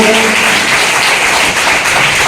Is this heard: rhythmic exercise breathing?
no